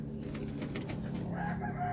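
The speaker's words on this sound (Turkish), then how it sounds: "Gördüğünüz gibi kuşlar güzel kuşlar." Game birds close by, with soft cooing and rustling under a steady low hum, plus a few brief high chirps near the end.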